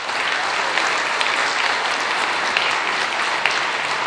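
An audience applauds a school cooking team at the final of a culinary contest in Martinique, sustained dense clapping close by throughout, with a few sharper individual claps standing out.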